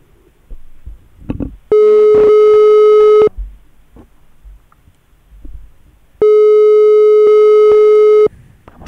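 A telephone busy tone sounds during a call in two long steady beeping stretches, loud and close, separated by quiet room noise and faint background voices.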